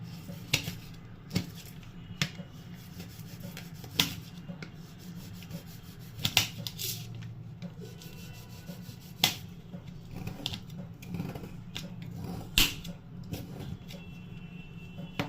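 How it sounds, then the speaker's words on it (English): A knife scraping chopped chocolate on a board, making repeated sharp, brief scraping and tapping strokes at an uneven rhythm over a low steady background hum, close and fairly clear with no talking. "You can scrape your knife the way I am doing."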